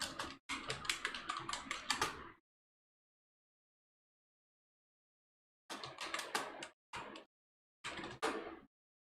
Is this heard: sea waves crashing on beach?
no